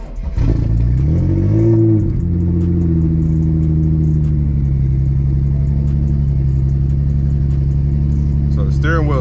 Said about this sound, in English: let's go ahead and get this cold start in.